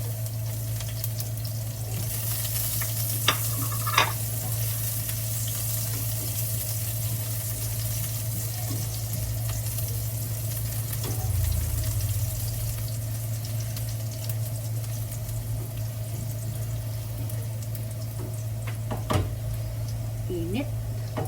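Garlic and onion fry in oil for a vegetable dish, a steady low sizzle with occasional clinks and a low hum, while a person talks over it now and then.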